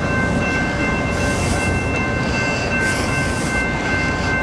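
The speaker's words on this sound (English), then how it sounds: "that fucking train's long too, boy" A long train rumbles past close by, loud and continuous, with a heavy low roar, metallic squeal and rolling clatter of wheels.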